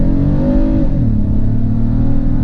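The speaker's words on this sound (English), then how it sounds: "All right, let's do a little pull here in automatic. So I floor it." A 2006 Mazda 6 in automatic accelerates at full throttle, its engine droning loud and close, with a gear shift dropping the pitch partway through before the steady pull continues.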